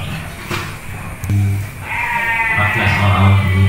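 Goats bleat on a goat farm, several loud, wavering calls close by, overlapping in succession against a background of farm noise.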